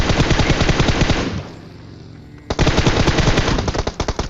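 Rapid automatic gunfire in a video game, loud close bursts of rattling shots, a pause of about a second, then another sustained burst.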